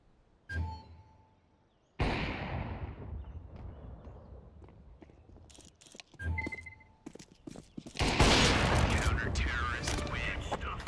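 Gunfire in the video game Counter-Strike: Global Offensive comes as sharp, loud shots and bursts mixed with in-game footsteps and clatter, ending in a prolonged, heavy blast-like roar.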